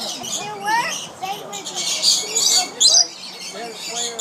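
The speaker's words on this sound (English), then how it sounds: "No, they're lories and lorikeets." Lories and lorikeets at a butterfly and bird park's feeding area screech and chirp in a busy, overlapping chorus, loud and close, with people talking among the calls.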